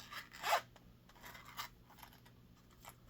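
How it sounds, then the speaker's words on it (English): Zipper on a harmonica case pulled open in one quick, close rasp, followed by faint scratches and light handling noise in a quiet room. "a nice zipper"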